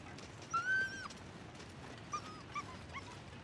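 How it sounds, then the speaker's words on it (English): A dog whimpers and gives short yips in the video game The Long Dark, a drawn-out whine followed by a few fainter, distant cries over a steady windy background. "That's a dog."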